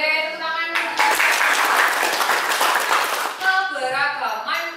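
Classroom of children clapping in a burst that runs about two and a half seconds, bracketed by a voice speaking before and after the applause.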